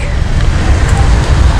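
Dense road traffic on a congested street, with continuous low engine rumble and road noise close by and no clear speech over it.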